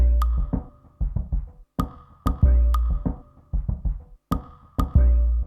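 Breakbeat loop on a Korg Volca Sample with a high cut filter applied, leaving muffled, dull kicks and snares in a steady looping groove with only occasional bright ticks, played alone.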